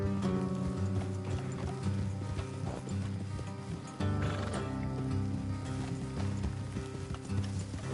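Horses gallop in the Red Dead Redemption 2 video game, rapid rhythmic hoofbeats with rattling tack and mechanical clatter under a game soundtrack, with a brief neigh, steady and close throughout.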